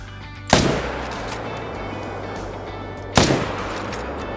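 Two loud, sharp rifle shots ring out in the hunting video game Call of the Wild, each with a long decaying echo, spaced a few seconds apart over low ambient background.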